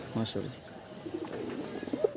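Low pigeon coos murmur close by at a pigeon farm, partly overlapped by someone talking.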